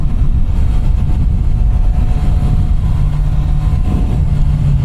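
Kawasaki motorcycle engine on a twisting mountain road, a loud constant low-pitched drone with heavy wind rumble, held high in second gear throughout.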